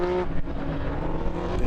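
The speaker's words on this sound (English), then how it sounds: "And in comes another of the BMW CSLs." A BMW CSL race car at the BRDC Classic roars past close by, a dense, loud engine note holding steady for a moment with a slight dip and recovery.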